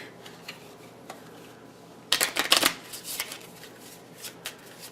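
A deck of cards shuffled close up: faint clicks, then a sudden burst of rapid riffling flutter, followed by lighter taps and settling.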